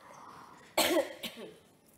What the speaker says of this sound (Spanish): y ahora tiene la tos nerviosa.